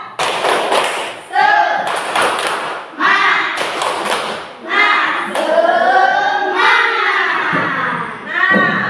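Loud rhythmic group clapping by elementary school children doing a spirit clap, with bursts of claps alternating with chanted and shouted voices in a lively patterned routine.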